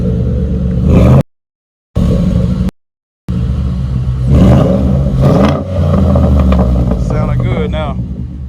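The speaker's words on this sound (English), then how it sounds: "That's what your muffler delete is gonna sound like." A 2014 Ford F-150 with a 5.0 Coyote V8 and a muffler delete, resonator still connected, cold-starts: a loud deep rumbling exhaust with a couple of revs, briefly cut out, while someone talks over it.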